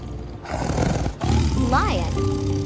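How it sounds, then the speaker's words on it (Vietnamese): A lion roars once in a short, rising-and-falling growl, loud and close over a steady musical backing. "Lion."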